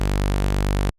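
A default saw wave held as one steady, bright, buzzy synth note in Xfer Serum, loud and constant for just under a second before it cuts off abruptly.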